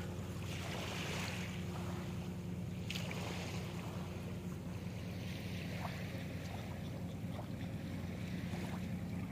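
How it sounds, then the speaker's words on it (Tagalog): Seaside ambience on a beach with a boat nearby, continuous wash of waves and wind noise buffeting the microphone, a steady low rumble with occasional brighter surges of surf. "Dito ako sa tabing dagat."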